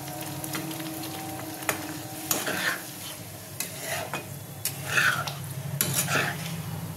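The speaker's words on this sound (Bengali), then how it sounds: "এর মধ্যে দিয়ে দিলাম পনিরটা আমি ঢেলে।" Paneer being tipped into a butter gravy in a pan and stirred, with clinks and scrapes of a spoon against the pan over a soft simmering sizzle, close and fairly quiet.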